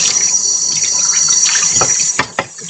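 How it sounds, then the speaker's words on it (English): Kitchen tap water running steadily into a sink as hands are rinsed after baking vegan biscuits, a continuous hiss that ends in a couple of splashy bursts as the flow is cut. "Get my hands rinsed off."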